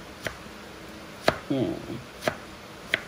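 A knife cuts through food on a board for a tofu and egg dish, producing a few sharp, isolated chops spaced about a second apart, with a brief quiet voice in between.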